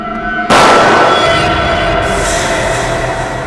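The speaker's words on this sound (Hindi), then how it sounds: "गोली चलने की आवाज।" A single loud gunshot cracks suddenly, followed by a long, rumbling echo that slowly fades.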